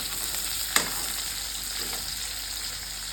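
Chopped onion fries in hot oil for a katla fish head curry with potato and cauliflower, giving a steady, soft sizzle and crackle, with one sharp utensil clink near the start.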